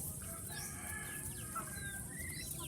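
Backyard chickens cluck and call softly in the distance alongside ducks, with a rooster-like crow among them over a low rumbling background.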